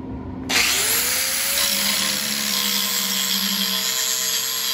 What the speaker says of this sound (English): What you see when you grind on cast iron is there's a lot less spark coming off of that cast iron